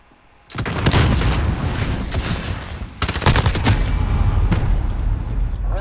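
Grenade explosion in Call of Duty: Modern Warfare: loud, dense booming blasts and crackling bursts that surge in twice and roll on without a break amid chaotic battlefield gunfire.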